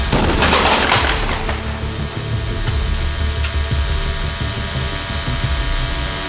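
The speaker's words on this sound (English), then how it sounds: "Okay, guys, we are hot. We are hot. Fire in the hole. Fire in the hole." A pyrotechnic blast goes off on the set of Resident Evil: Extinction, a loud, sharp burst that settles into sustained roaring rumble and crackle, filling the whole stretch without talk.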